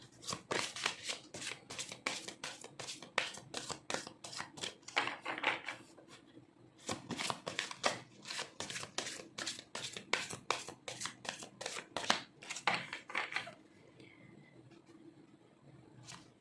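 Tarot cards shuffled by hand in rapid riffling bursts, crisp repeated snaps in quick rhythm with brief pauses between rounds, close and fairly quiet, with no talk.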